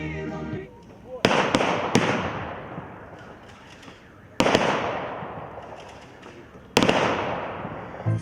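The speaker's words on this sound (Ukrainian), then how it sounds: "Після хвилини мовчання на честь загиблих героїв пролунав військовий салют." Military gun salute at a city day ceremony in Lozova after a minute of silence for fallen heroes: three sharp, loud volleys spaced a couple of seconds apart, each echoing and decaying across open ground.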